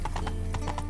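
Roach the horse gallops in The Witcher 3: a quick burst of several close, loud hoofbeats in a running rhythm, lasting under a second.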